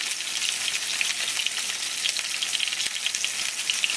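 Onion fries in a pan for a Tibetan chicken dish, a dense, continuous bright sizzle close up, with faint stirring scrapes and no talking.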